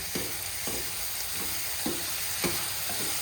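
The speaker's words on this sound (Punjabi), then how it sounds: "ਅਬ ਹਮ ਲਗਾਏਗੇ ਤੜਕਾ" Tempering for moong dal sizzles steadily in a hot pan, with a few sharper bursts and stirring clinks spaced through the continuous frying hiss, close and moderately loud with no talk.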